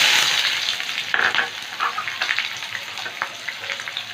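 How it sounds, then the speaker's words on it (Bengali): Chopped onion fries in hot white oil in a heated wok, a loud continuous sizzle close by with scraping stir strokes and soft clatters, and no voices. "একটা বড় সাইজে পেঁয়াজ কুচি দিয়ে দিলাম"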